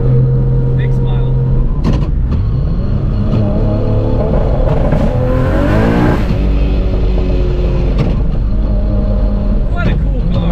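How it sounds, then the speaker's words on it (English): A Barra-engined Ford Mustang GT350 making over 1000 wheel horsepower, heard from inside during rolling anti-lag, with a loud continuous engine drone, rising revs and crackling pops, under occasional talk. "I want to do the rolling anti-lag again"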